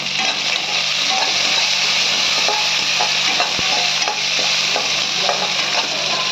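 Green chilies and curry leaves sizzle loudly in hot tempering oil for curd semiya, with a constant frying hiss and occasional scrapes from a stirring spoon.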